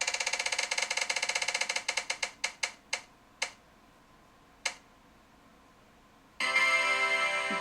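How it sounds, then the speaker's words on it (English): A color wheel spins with rapid ratcheting clicks that slow to a few sparse ticks before it stops, followed by a bright chime. "We're going to spin the wheel again and see what color we get this time."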